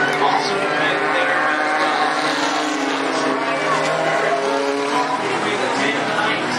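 Hornet-class race cars at Cottage Grove Speedway roar around the track in a dense, continuous wash of engine noise, with a commentator talking over it throughout.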